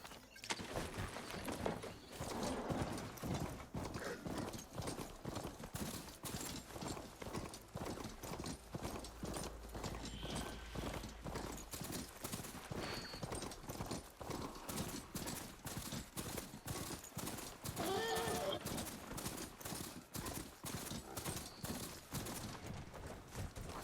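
A mount in the video game Horizon Forbidden West trots along with fast, steady clip-clop footfalls, a brief whinny and metallic rattles mixed in, continuous and moderately close.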